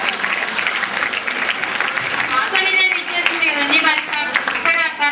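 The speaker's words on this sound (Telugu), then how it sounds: "చప్పట్లతో ఆమెను ఆహ్వానించాను" Audience applause at a live drama performance, a steady dense clapping that holds loud throughout, with a voice speaking over it in the second half.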